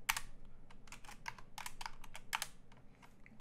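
Rapid keystrokes on a computer keyboard while entering game-hacking code, a fast irregular patter of close clicks with brief pauses and no talk.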